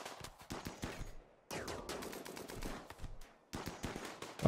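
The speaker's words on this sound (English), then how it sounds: "This guy's got a machine gun." Rapid bursts of machine gun fire in RimWorld during a raid fight, loud crackling volleys broken by brief pauses, with no voices over them.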